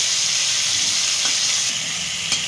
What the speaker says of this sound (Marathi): जिरा तडतडला की यामध्ये आपण हिरवी मिरचीची पेस्ट टाकून घेऊ।